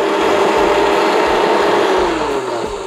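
An old blender grinds whole spices with water for a pork asado, a loud, steady motor whine and rattle that dips slightly toward the end.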